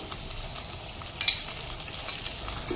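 Tomatoes sizzle and fry in a pan for palak paneer, with a soft continuous crackle and occasional stirring scrapes, close and fairly quiet, no talking.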